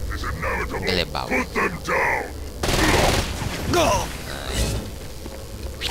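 SMG bursts in the video game Saints Row Gat Out of Hell, several rapid stuttering volleys, some close and loud, mixed with explosions and game noise under a speaking voice.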